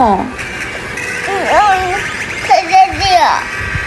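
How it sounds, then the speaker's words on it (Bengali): A young child cries close by in two wavering, rising and falling wails separated by a short pause. "তুমি কি কান্না করছো কেন"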